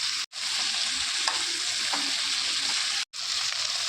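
Onion and capsicum sizzle and crackle steadily in hot oil for chilli chicken, with stirring, broken by two brief gaps of near silence.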